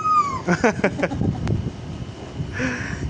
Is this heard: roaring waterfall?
no